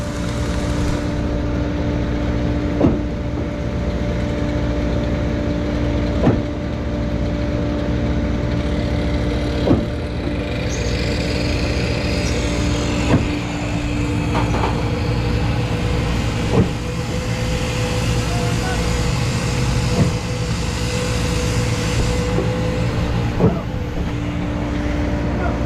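A grout pump engine drones steadily and loudly up close while pumping grout into concrete block walls, its tone holding even throughout, with faint periodic clicks every few seconds.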